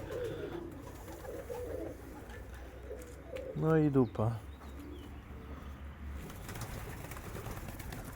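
A German Viennese pigeon outdoors gives one short, close burst of rolling coos, set against faint background noise, with someone speaking briefly.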